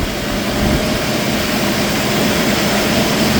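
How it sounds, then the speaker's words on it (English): A welder's engine runs with its idle raised, a loud continuous close-up roar with a steady low drone, unbroken throughout and with no voices. "I ramp up the idle a little bit, and it'll go faster."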